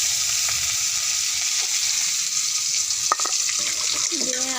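Onions fry in oil in a pan, a steady hissing sizzle with occasional stirring clinks and a short utensil clatter toward the end, with a faint voice-like sound at the close.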